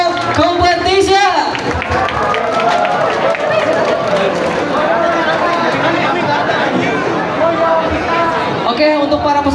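A large audience at a coswalk cosplay competition in a Bandung mall claps and cheers for the contestants, steady dense applause mixed with crowd chatter that runs the whole length, loud and close.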